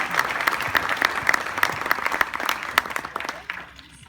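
Applause from the audience at a HopeKids gala, dense close clapping with crisp individual hand strikes, loud and steady before thinning out toward the end.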